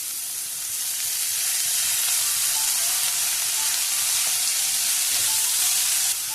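Chopped onions sautéing in hot oil for Chettinad egg curry, a loud, even, hissing sizzle that swells slightly and holds steady throughout, close to the pan with no voices.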